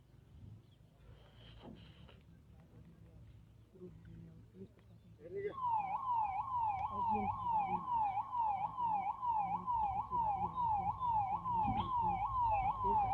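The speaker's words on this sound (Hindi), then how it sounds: "अब ये एम्बुलेंस जो है ये बॉडी को लेकर के निकल पड़ी है" Ambulance siren wailing in a repeating up-and-down pattern, rising loud after a few seconds of rumbling traffic and background voices near a village rescue site, with people talking throughout.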